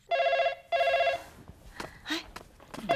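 An old-style telephone bell rings indoors in two loud, close bursts, followed by quieter shuffling and movement sounds before the ringing starts again.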